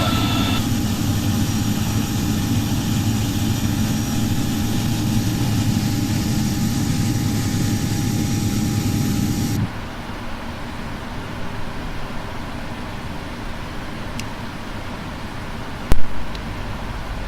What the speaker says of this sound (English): the engine starting up. It was just simply an amazing sound that I just had to let you hear it